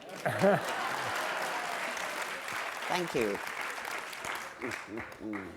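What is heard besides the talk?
audience applause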